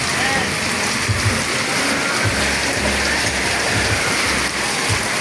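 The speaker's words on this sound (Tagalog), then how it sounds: "Malakas ang ulan guys, oh. Pati hangin." Heavy rain pours down steadily with gusting wind during a monsoon downpour, a dense continuous hiss of drops hitting surfaces, loud and close throughout.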